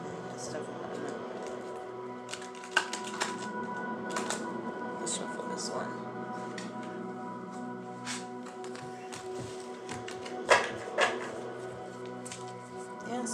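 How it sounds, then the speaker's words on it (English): A heavy tarot deck is shuffled by hand with irregular soft taps and riffling clicks, close and moderately quiet, under a person talking continuously. "I'm just shuffling a little bit more only because like they are really really really heavy cards."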